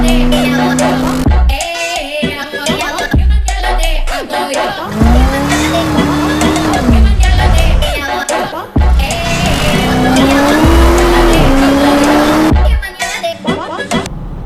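A G-Wagon does a burnout, its tires squealing loudly in long, wavering, high-pitched whines over heavy engine roar, with people talking and shouting over the noise.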